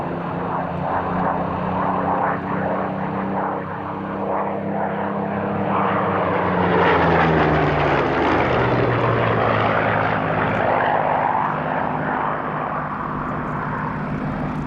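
Chipmunk aircraft known as baby Spits, kept by RAF Coningsby ground crews, drone past at the Duxford airshow, a loud, steady propeller-engine roar that swells as they pass overhead and shifts in pitch, with no talk.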